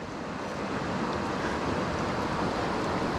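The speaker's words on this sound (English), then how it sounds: "There's a bit of a waterfall downstairs" A small waterfall on a trout river gives off a steady, dense roar of rushing water, loud and constant throughout, with no speech.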